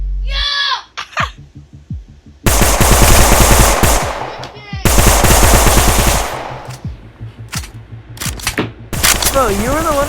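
Rapid bursts of pistol gunfire from a video game round, loud and repeated in dense volleys with brief pauses between, while players talk and shout over the shots.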